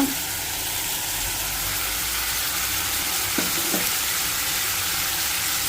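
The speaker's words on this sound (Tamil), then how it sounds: "இந்த ஸ்டேஜில் வந்து மூளையை சேர்த்துக்கோங்க" Steady, close sizzling of goat brain frying in a pan, a broad continuous hiss with a couple of soft clicks from a utensil near the end.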